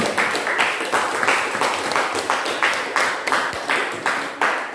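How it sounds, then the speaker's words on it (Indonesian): Steady applause from a small group in a classroom, sustained clapping at an even pace throughout. "tepuk tangan untuk Amal dan Dika."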